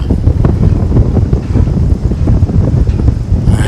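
Cool wind gusting steadily across the microphone at an outdoor spot in Vietnam near a cave, a constant loud rushing roar with low buffeting throughout.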